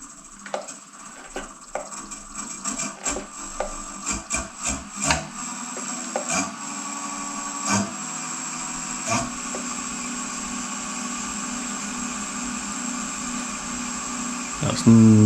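Yew wood vase spinning on a lathe at 900 RPM while being buffed, a steady whirring hum with scattered rubbing scrapes and light knocks that ease into an even drone, close and moderately loud.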